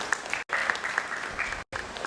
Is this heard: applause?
yes